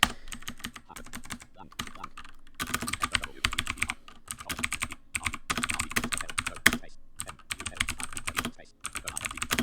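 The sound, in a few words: typing on a mechanical computer keyboard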